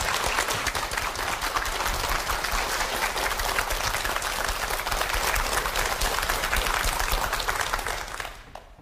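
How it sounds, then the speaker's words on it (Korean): Sustained, dense audience applause greets a guest lecturer at a televised special lecture on feng shui, steady for about eight seconds before tapering off at the end, with no voices over it. "여러분 큰 박수로 맞이해 주시기 바랍니다."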